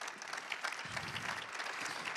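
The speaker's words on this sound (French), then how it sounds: "On peut l'applaudir." An audience at a Drive to Zero zero-carbon mobility conference event applauds, a steady wash of clapping from a seated crowd that holds evenly for the whole stretch.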